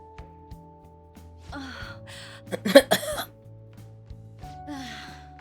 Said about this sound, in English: Can't stop coughing.